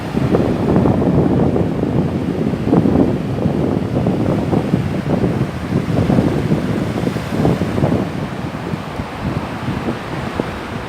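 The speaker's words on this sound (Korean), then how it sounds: "바다 소리 좀 들려드릴게요." Sea waves rolling onto Sitges beach in Spain, a steady broad wash of surf with wind buffeting the microphone, loud and continuous throughout with no voices.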